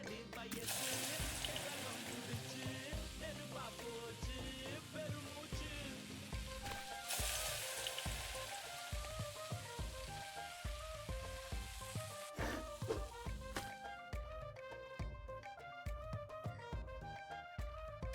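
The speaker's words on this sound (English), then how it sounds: "A lot of frying, and I'm all about it." Food sizzles and fries steadily in the video game Venba, a dense crackling hiss that carries on throughout under a layer of game music.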